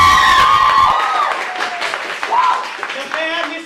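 Theatre audience applauding a vote for a performer in a Victorian music-hall style show, a dense wash of clapping with some cheering mixed under a voice, fading slightly toward the end.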